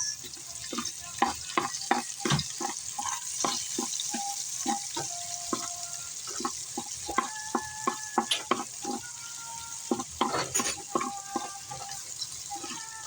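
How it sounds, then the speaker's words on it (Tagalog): Garlic and onion sautéing in a pan, a constant sizzle under frequent sharp clicks and scrapes of a spatula against metal, with a faint background song. "Gisahin ko na yung bawang at sibuyas."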